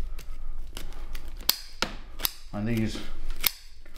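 Greenwood bonsai scissors cut through the roots of a Katsura maple forest during repotting, giving several sharp, separate snips spaced across a few seconds, with brief talk in between.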